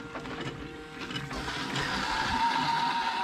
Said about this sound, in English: Plug the hose, it will fit in there and pump it up.